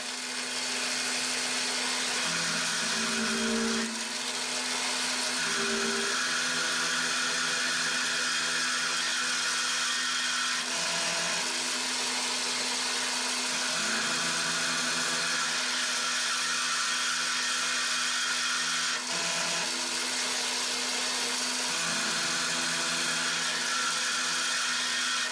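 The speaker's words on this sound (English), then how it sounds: "So we're just going to mill into here." Milling machine cutting a slot into a motor mount bracket for an Atlas 7B shaper, a steady loud machining whine with tonal hum running continuously, slight changes in pitch as the cut progresses, no talking.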